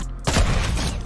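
A single bolt-action sniper rifle shot in Fortnite: a sharp, loud crack after a brief pause, followed by a booming, rumbling tail that fades slowly.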